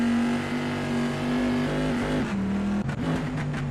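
A historic pre-1973 race car in a racing game at Imola roars at full throttle on a qualifying lap, a loud steady engine drone with a gear change and brief dips near the end, no voices.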